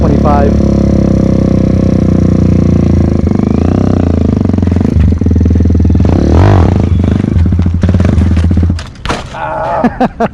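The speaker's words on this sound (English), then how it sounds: "He's gonna do a wheelie for me on his little 125." A small 125cc motorcycle revs hard for a wheelie, its engine note rising and falling loudly up close, then cutting out abruptly near the end as the bike stalls.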